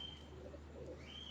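A female pigeon from a large rooftop loft coos softly, two low murmuring notes over a faint steady background hum, quiet and fairly close.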